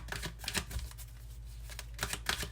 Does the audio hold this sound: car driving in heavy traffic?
no